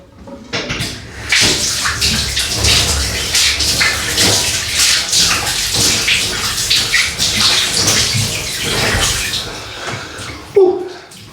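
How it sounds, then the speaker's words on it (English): Running water splashing steadily while someone rinses off after a shave, loud and close, a continuous wash of spray and trickling with a brief gurgle near the end. "Rinse off."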